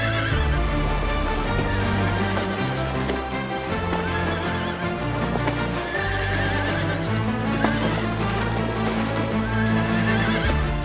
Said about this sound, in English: the sight of wild horse herds roaming beneath the peaks of Torres del Paine